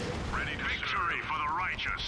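Gunfire from the Warhammer 40,000: Dawn of War II – Chaos Rising strategy game: steady rumbling bursts of shooting, with wavering tones running over them throughout.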